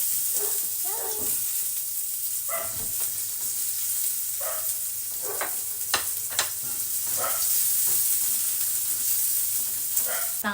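Garlic and onion sauté in a pan on a home stove, a soft, steady sizzle with scattered scraping stirs and small clinks, fairly quiet and close, with no talking over it.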